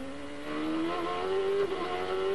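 On-board engine note of Paul Tracy's ChampCar race car while he leads a 2005 race, a loud, steady high-pitched whine that climbs gradually in pitch as the car accelerates, with a brief dip around a gear change.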